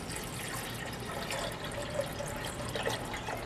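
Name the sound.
water being poured into a cooking pot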